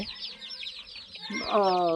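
Hens on a small backyard poultry farm cluck in quick, chattering bursts nearby, with one bird rising into a louder drawn-out call near the end.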